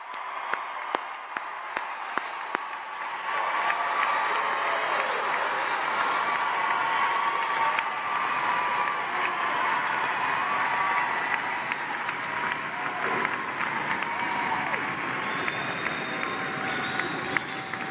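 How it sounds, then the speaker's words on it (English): A large graduation audience at a university social work commencement breaks into sustained, dense applause with some cheering, a steady roar that swells after a few opening claps and holds loudly throughout. "let's give them the biggest round of applause"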